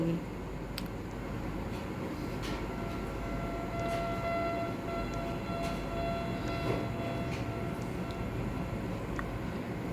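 A train rumbles steadily along, a continuous low roar with faint whistling tones and occasional metallic clanks, no voices.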